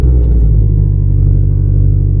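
A car fitted with a Garrett GT2860RS turbo drives off on a warm-up run, its engine a loud, steady low rumble close by with a slight swell partway through and no voices.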